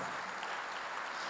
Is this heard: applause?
yes